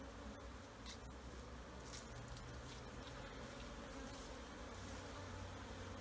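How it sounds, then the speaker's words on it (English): Honey bees fly around their hives on a farm in October, a continuous, dense, faint buzzing swarm hum that stays steady throughout, with no voices. "the bees have been out flying a bit"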